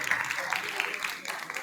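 An audience claps in a brief, steady patter at an Islamic calligraphy exhibition awards event, a voice speaking over the applause.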